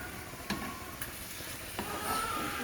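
A steak fries in a pan with a steady close sizzle and crackle, a few soft clicks and scrapes from turning it over.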